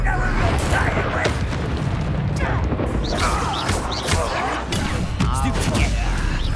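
The Confringo fire spell explodes in Hogwarts Legacy as loud, dense booms and crashes, with a voice shouting over the blasts and the battle noise continuing throughout.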